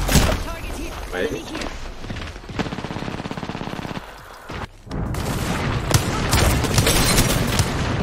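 Sustained bursts of automatic fire in an Apex Legends battle, loud and close, with rapid rhythmic shots, a brief lull, then dense overlapping gunfire and booms while players talk over it.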